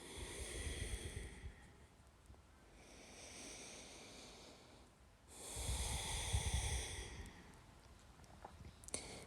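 Slow, deep breaths during a vinyasa yoga session, with two long audible airy exhales close to the mic separated by a quiet pause, followed by faint rustling.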